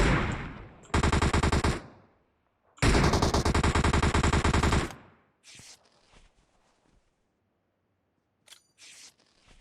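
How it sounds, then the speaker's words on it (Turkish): Automatic gunfire in PUBG Mobile on the Sanhok map, two long sustained bursts of rapid shots up close, followed by a few brief scattered shots and clicks in a quieter stretch. "Bir tane sıktım. Bir daha sıktım."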